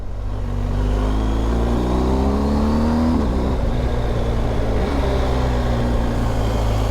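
A BMW R1250 GS Adventure motorbike engine pulls steadily through acceleration, its rising drone close and loud throughout, with a brief dip in pitch around midway as the revs shift before climbing again.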